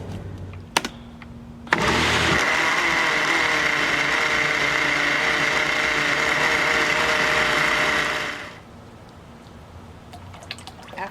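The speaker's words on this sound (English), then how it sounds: "I'm putting it into the blender because it needs to be finer than the first batch" A kitchen blender runs for about seven seconds, pulping paper for handmade paper making, a loud steady whir that starts abruptly after a few small clicks and then cuts off.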